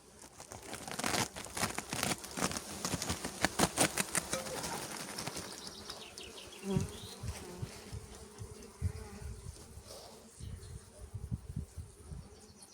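Honey bees swarm and buzz around an opened hive during the honey harvest, a dense continuous drone near the listener with crinkling handling sounds and occasional faint bird calls.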